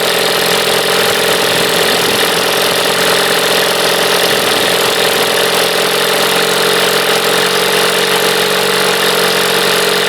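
A 1976 Evinrude 25 hp outboard motor runs steadily and loud for the whole stretch, its drone holding close with a slight rise in pitch as the carburetor needle is turned and the RPM picks up.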